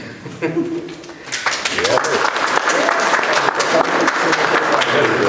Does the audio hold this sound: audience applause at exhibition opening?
yes